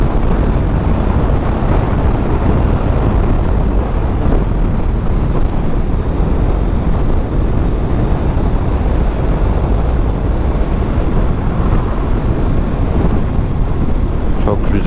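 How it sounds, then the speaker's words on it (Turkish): Strong, steady wind buffeting a microphone while riding a Honda CBR 650F motorcycle, a loud continuous roar that fills the whole stretch and drowns out everything else. "Çok rüzgar var, sesim duyulmayacak."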